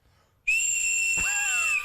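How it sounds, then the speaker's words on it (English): A shrill, sustained whistle blast starts abruptly after a moment of quiet and holds steady and loud for over a second, with a brief thump partway through. "Blow the whistle, Justin."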